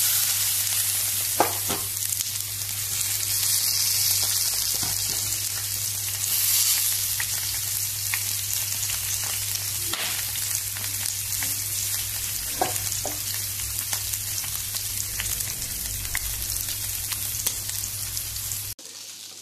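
Chicken pieces fry in oil in a pan, giving a constant close sizzle with occasional taps and stirring scrapes, under a low steady hum, alone without talk.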